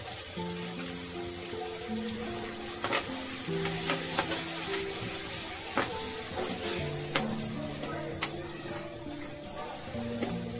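Spices and masala sautéing in a pan for a Maharashtrian veg dish, a steady sizzle with repeated sharp clicks of a spoon stirring against the pan, plus a few sustained background tones.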